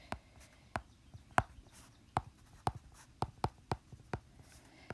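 Handwriting on paper: irregular scratchy pen strokes and taps, about a dozen distinct marks spread over a few seconds, close and quiet with no talk.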